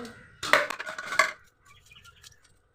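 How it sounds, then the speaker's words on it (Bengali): Knife chopping fresh homegrown bitter gourd, a quick burst of metallic clinks and taps for about a second, then fainter scattered clicks, close and clear with no voice. "এই দেখো উচ্ছা কেটে নিচ্ছি"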